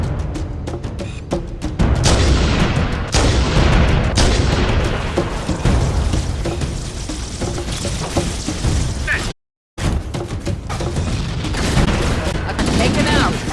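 Heavy stationary gun emplacements fire in a Halo: Combat Evolved battle near a mountain pass, with loud continuous bursts, booms and explosions pounding almost without pause, a brief silent break near the end, and voices calling out amid the din.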